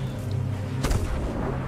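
A single ship cannon fires in Sea of Thieves, one deep booming blast that stands out sharply against low background ambience.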